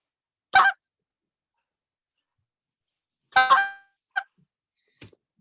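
A short reed goose call is blown in a few sharp honking spit notes, each ending in a quick cluck, with two strong blasts followed by two shorter, quieter clucks and silence between them.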